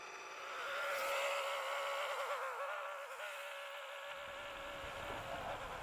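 A Countach replica car with a reinstalled transaxle and an unsettled clutch runs in a driveway, its engine a faint, steady drone with a slightly wavering pitch, heard alone at a distance.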